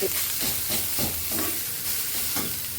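Spice paste hits a hot pan for a rohu fish kaliya curry, giving a loud, steady sizzle and frying hiss with rhythmic stirring scrapes throughout.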